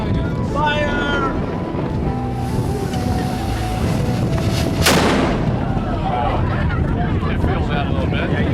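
A single cannon shot booms aboard the tall ship Pride of Baltimore II, loud and close, breaking through a steady wash of wind and sea noise on deck.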